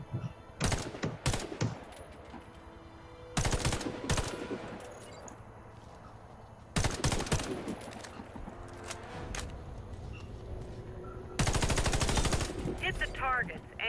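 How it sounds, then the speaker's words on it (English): Rifle gunfire at targets in the Warface shooter game, four loud bursts of rapid shots spaced a few seconds apart, each separated by quieter game ambience. "Hit the targets aiming through your scope."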